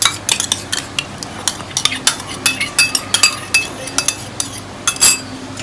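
A spoon stirs cream into palak paneer gravy in a metal pot, producing a run of sharp clinks and scrapes in an irregular rhythm, close and fairly loud, with no speech.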